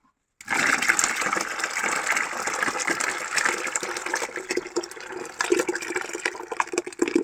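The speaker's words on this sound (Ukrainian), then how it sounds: "Яблучний сік готовий, переливаємо його в малину." Homemade apple juice is poured into raspberries, a continuous gushing liquid stream that starts abruptly after a brief silence and runs steadily, close and fairly loud.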